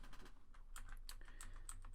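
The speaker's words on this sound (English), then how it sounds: "My keyboard is very multicolored and very loud." A loud, multicolored computer keyboard being typed on, with quick irregular clacky keystrokes close by over a low background hum.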